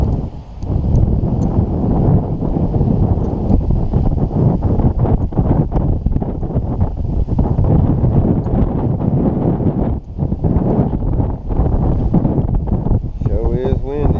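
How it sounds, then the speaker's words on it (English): Strong wind buffeting the microphone high up in a large pin oak during removal work, a constant loud rushing roar throughout with brief dips, and a short bit of speech near the end. "Sure is windy up here."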